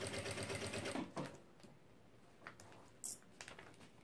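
A sewing machine fitted with a presser foot stitches fabric and lining in a quiet room, a quick mechanical whirring burst at first, followed by short bursts and soft handling clicks.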